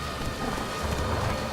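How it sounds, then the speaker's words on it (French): Heavy rain pours down steadily in The Witcher 3, a dense hiss with low rumbling underneath, close and continuous, with no voices. "il pleut à verse"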